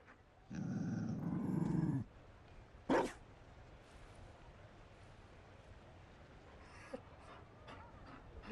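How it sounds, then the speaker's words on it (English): Mabari war dog from Dragon Age: Inquisition, a low rumbling growl and a short burst of breathy sound from close by, followed by quieter ambience with faint clicks. "You found a dog? They don't breed Mabari in Olay."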